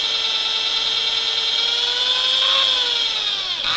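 A power drill bores two holes in a part being fitted to an engine on an old ZIL crane truck, a steady whining tone that holds, rises slightly, then falls as the bit slows near the end, loud and alone.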